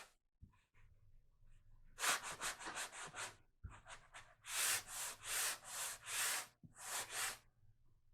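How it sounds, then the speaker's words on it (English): Sandpaper block scrubbing across a painted wood craft sign, a series of close, loud rasping strokes in bursts, starting short and growing into longer sweeps, with no talking. "Now I'm going to go over with my sandpaper and lighten it up, make it look a little bit more aged"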